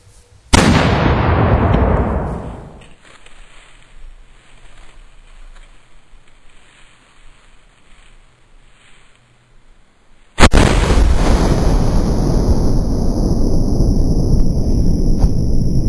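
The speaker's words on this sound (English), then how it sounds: "ready for shot number 3 here at the range with the 6-pounder French howitzer" A 6-pounder French howitzer fires at a range with a sudden loud boom that rolls off over a couple of seconds, followed by a quiet lull and then a second heavy blast that rumbles on to the end.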